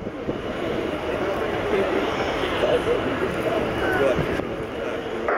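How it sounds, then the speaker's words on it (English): A gunship aircraft at a Navy airshow in Yeovilton roars continuously in the distance as it sets up a diving rocket attack, its engine drone broad and sustained beneath a commentator's voice. "Gunship 1, closest to you on the left now, as he sets up for a diving fire attack with 70mm high explosive rockets."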